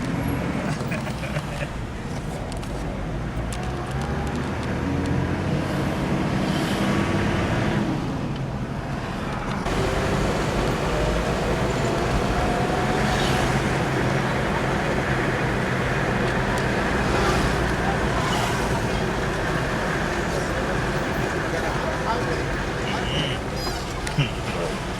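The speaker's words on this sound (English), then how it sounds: "there's a lot of traffic on the road here" Road traffic in Kigali heard from inside a moving car: a continuous rumbling engine and road drone with passing vehicles, with muffled voices in the background.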